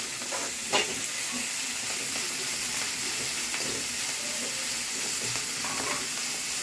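Food being sautéed in a pan for an old-style thuvaiyal with tamarind and curry leaves, a dense, constant sizzle close by with occasional stirring scrapes, loud and unbroken, no speech.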